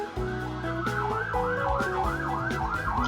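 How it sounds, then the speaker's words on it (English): A wailing siren in the video game Ethereal Enigma rises and falls in a steady cycle over a continuous musical backdrop. "there are sirens out there"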